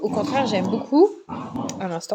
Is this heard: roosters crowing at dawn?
no